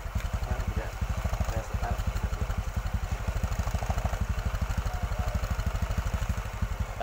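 A motorcycle engine idles at low throttle with a fast, steady low-pitched put-put pulse that holds evenly throughout, close and loud, with no talking.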